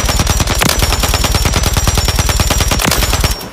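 A VT7 Spitfire suppressed gun in Warzone fires one long, loud, rapid burst for about three and a half seconds, with shots coming in a fast, even rhythm before it stops.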